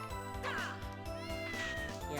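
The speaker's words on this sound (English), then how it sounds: "It seems to meow every time." A cat meows in the video game Castlevania Dominus Collection, with a couple of clear, rising and falling electronic meows over a steady bed of game music.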